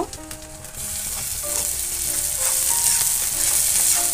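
Onion, tomato and chili fry in a pan for baingan bharta, a steady bright sizzle that swells and grows louder as the ingredients go in, with faint stirring clinks and no talk.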